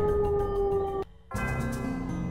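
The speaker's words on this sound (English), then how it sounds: "There's the siren for the end of the day" An end-of-workday siren wails loudly in the video game Shenmue, a sustained steady tone that cuts off abruptly, pauses briefly, then sounds again.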